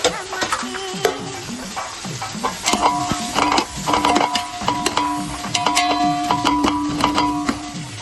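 Chicken seasoned with chilli powder and salt cooks in a pan for a dum biryani, giving a close, steady sizzle with frequent rhythmic metal scrapes and clinks from stirring.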